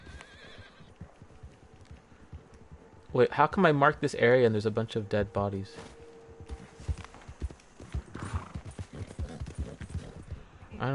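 Red Dead Online gameplay with a horse whinnying loudly in a long, wavering neigh, followed by soft clip-clopping hooves, while a player talks over the game sounds.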